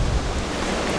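Ocean surf at a beach rolls in as a broad, steady wash of noise, close and fairly loud with wind-like rumble underneath.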